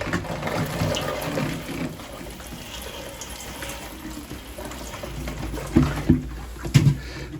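Water poured from a watering can onto compost pots in a greenhouse, a soft steady splashing and trickling with a few louder splashes near the end.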